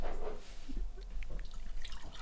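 Batch brew coffee splashes as it is poured into a cup, a short continuous liquid trickle close by with faint clinks.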